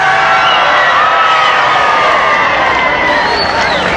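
Large crowd in Fort Worth, Texas, in 1963 cheers and claps for President Kennedy, a loud, steady roar of voices and applause holding without a break, with shouts rising near the end.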